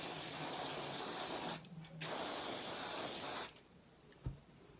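Close, steady hiss of spray paint coating a craft wizard wand, two sustained bursts separated by a short pause, then the can falls quiet with a faint knock.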